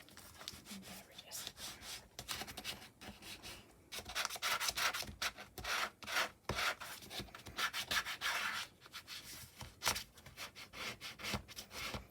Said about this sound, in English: slightly burnish it